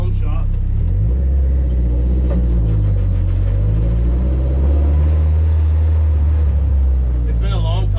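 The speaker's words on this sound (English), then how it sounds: "We are driving back to the home shop." Car with new fuel injectors driving on the street, a steady low engine rumble throughout with shifting revs and a voice talking over it.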